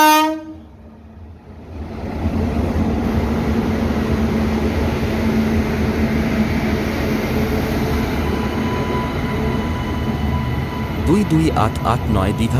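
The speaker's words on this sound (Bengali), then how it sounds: "পুরী সমুদ্রকন্যা এক্সপ্রেস ট্রেনটিকে চার নম্বর লুপ লাইন থেকে বের করে দুই নম্বর প্ল্যাটফর্মে ঢোকানো হচ্ছে" Digha Puri Samudrakanya Express (22889) shunting from a loop line into platform two at Digha station, a loud rumble of rolling wagons and a horn blast near the end, with voices over it.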